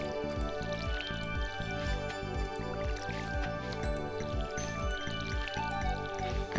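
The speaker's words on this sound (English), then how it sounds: "we gotta water by hand today" Stardew Valley farming game audio of hand-watering crops with a watering can: repeated short splashy drip sounds in a steady rhythm over continuous background game music, no talking.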